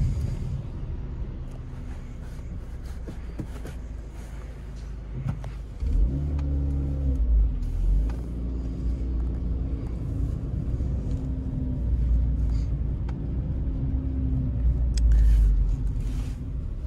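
A Renault Mégane RS track car's engine rumbles at idle, then is blipped and revved with deep, throaty surges, heard up close outdoors with no talking.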